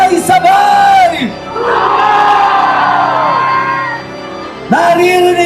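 A rally crowd at Liwasang Bonifacio shouts and cheers together in a loud, sustained roar that swells for several seconds, with sharper whoops and yells breaking out at the start and end.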